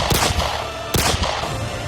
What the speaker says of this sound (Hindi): मात्सुदा फिर से इस पे गोली चला देता है।